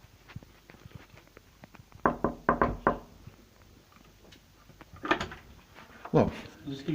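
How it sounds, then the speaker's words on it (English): A door bangs shut and its chain is fitted with a cluster of sharp metallic knocks and rattles, followed by later clunks, with voices in the background. "Did you close the door on me for a reason to put the chain on?"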